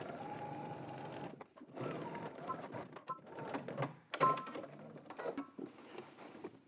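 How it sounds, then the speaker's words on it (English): A sewing machine topstitches along the folded edge of a garment's pocket flap, running in several close whirring bursts separated by short pauses. "you're gonna go ahead and top stitch"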